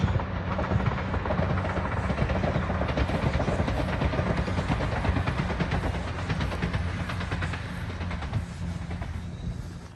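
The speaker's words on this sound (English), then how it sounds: "that's the train we came on, now heading back to Hull." A train departing Filey for Hull rumbles past nearby, a loud continuous roar with rhythmic clatter that begins to fade toward the end.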